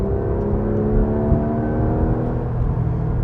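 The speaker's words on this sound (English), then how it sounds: "this is the 4-litre infamous Porsche engine, so it's as good as it gets when it comes to naturally aspirated engines" Porsche 911 GT3 RS with its 4-litre naturally aspirated engine, a loud, steady, close-up whirring drone that holds an even pitch and level the whole time, with no voices.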